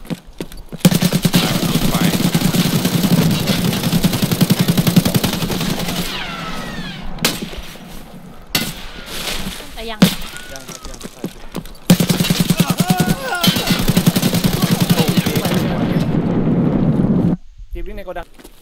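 Gunfire from behind in Escape From Tarkov near a train, dense rapid shots and bursts filling most of the clip with brief gaps, loud, with a voice talking over it.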